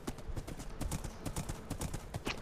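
Donkey hoofsteps in a video game, a quick, steady clip-clop of hooves on a hard surface, moderately close and continuous throughout, with no talk.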